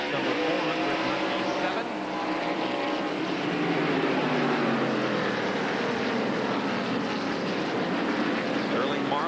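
1992 NASCAR Winston Cup stock cars at Martinsville Speedway accelerating on a green-flag restart: a dense, loud engine roar with rising and sweeping tones fills the whole stretch while a commentator speaks over it.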